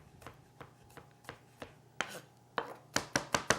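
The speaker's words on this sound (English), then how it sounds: "And then you just start chopping away until you get it" A knife chops garlic finely on a cutting board, with a series of sharp, close taps that start spaced apart and speed into a quicker rhythm near the end. No one speaks.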